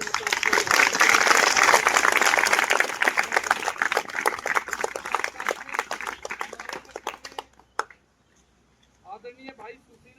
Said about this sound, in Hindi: मैं एक बार जोरदार तालियों के साथ